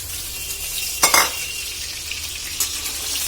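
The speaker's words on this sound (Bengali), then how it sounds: "একটু নাড়াচাড়া দিয়ে নেব। বেগুনটা একটু ভাজা ভাজা হওয়ার জন্য ওয়েট করতে হবে।" Eggplant and hilsa fish with slit green chilies frying in oil in a pan, a continuous crackling sizzle broken by two scraping stirs of a spatula against the metal, no voices present.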